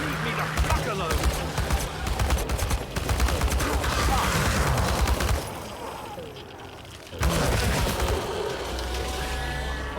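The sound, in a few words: gunfire in the Chernobylite video game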